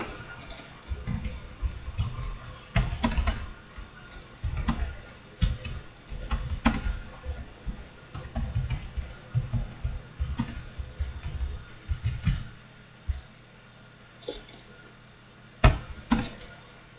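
Fingers type a comment on a computer keyboard in irregular bursts of close, light clicks and taps, with short pauses between runs of keystrokes and no talking.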